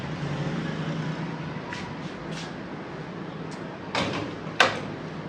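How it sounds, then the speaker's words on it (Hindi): A door is shut at home amid a household kitchen routine, with a few soft scrapes and clicks over a low background hum, then a sharper bump and a brief latch click near the end. "दरवाज़ा भी बंद कर देते हैं क्योंकि डस्ट आना शुरू हो गई है।"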